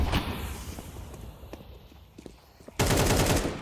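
Gunfire in a Counter-Strike match: scattered sharp shots over a steady game ambience, then a loud burst of rapid automatic fire near the end.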